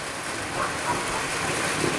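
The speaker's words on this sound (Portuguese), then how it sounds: "E está chovendo uma quantidade razoável, não muito, mas também não muito pouco" Moderate rain falls steadily under an overcast sky in Conselheiro Lafaiete, Minas Gerais, Brazil, a continuous even hiss of drops with no voices.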